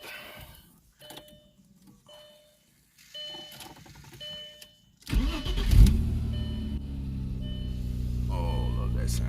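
An Audi weekend cruiser car turning over and firing up, a sharp starter crank followed by a steady, close idle, after a few seconds of quiet clicks and small handling noises.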